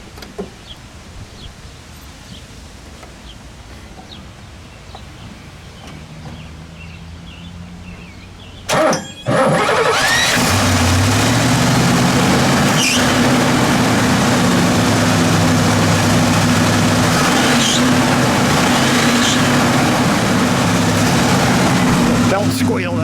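A 1963 Pontiac Catalina 421 V8 fires up after a quiet stretch of people talking. A sharp starter crank gives way to a loud, deep, steady rumble that settles into an idle and holds near and strong.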